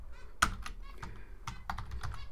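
Keys clattering on a computer keyboard while entering commands for a Raspberry Pi, an irregular series of close, crisp clicks with one sharp louder tap early on, heard alone.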